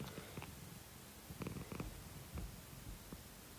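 A cat purring close to the microphone, a soft continuous rumbling drone with faint rhythmic pulses, quiet and steady with no talk over it.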